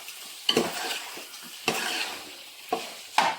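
A spoon scrapes around the bottom of a pan, mixing a sizzling base before rice goes in, in four distinct strokes with quieter frying between them.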